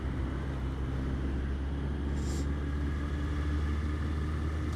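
Steady engine drone while riding a Honda CB1100 motorcycle, a continuous low rumble with road and wind noise throughout, no voices.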